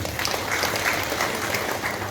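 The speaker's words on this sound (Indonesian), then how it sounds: "Tepuk tangan dulu buat kita." An audience at a plenary coordination meeting clapping together, a dense steady patter of many hands heard from the floor for about two seconds.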